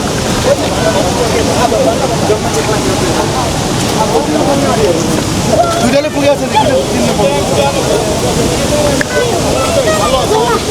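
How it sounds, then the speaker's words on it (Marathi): A large waterfall on the Kailash Mansarovar route roars in a steady, loud, broadband rush that fills the whole stretch, with faint voices mixed into the noise. "इकडे पण एक मोठा धबधबा आहे"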